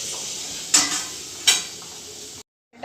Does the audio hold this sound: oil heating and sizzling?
yes